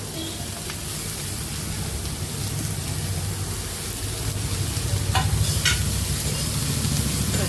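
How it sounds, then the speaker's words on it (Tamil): Grated carrot sautéing with onion and green chilli in a pan for carrot poriyal, a steady, fairly loud sizzle with soft stirring scrapes throughout and no talk. "வதக்கிக்கிறேன்."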